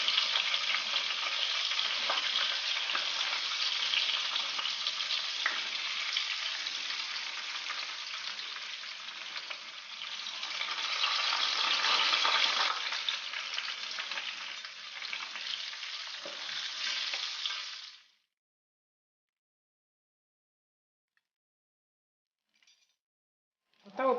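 Tunisian stuffed peppers fry in a pan of oil with a loud, crackling sizzle that runs close and steady, then cuts off abruptly, leaving near silence and a short clatter at the close.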